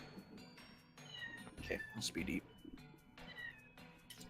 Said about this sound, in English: Meowing all the way in here from the kitchen.